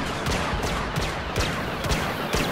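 Blaster shots in Star Wars Battlefront multiplayer, Heroes versus Villains with Han and Vader, crackle in a quick, uneven string of close, sharp bursts over continuous battle noise.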